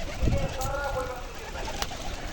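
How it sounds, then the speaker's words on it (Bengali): Pet pigeons feeding close by give soft, low cooing calls over a faint background murmur, a brief run of throaty coos with a light tap or two. "আপনারা দেখতে পাচ্ছেন আমার পোষা কবুতরগুলো খাবার খাচ্ছে"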